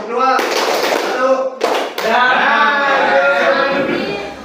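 Several sharp hand claps in a counting clapping game in a classroom, heard as brief bursts mostly masked by loud group chanting and talk.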